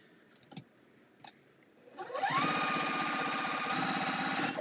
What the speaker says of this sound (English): we are going to sew those together twice